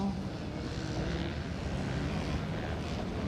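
Mini open C motocross bikes pass on a Mesquite MX off-road race track, a continuous distant engine roar that swells slightly, with no talking.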